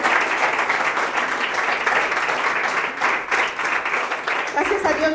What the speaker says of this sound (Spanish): Y dale un aplauso al Señor, porque Él es bueno